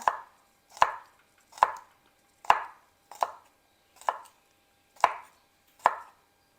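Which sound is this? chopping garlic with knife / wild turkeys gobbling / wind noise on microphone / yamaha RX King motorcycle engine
chopping garlic with knife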